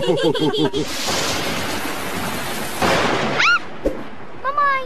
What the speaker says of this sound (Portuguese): o barulho do trovão está muito alto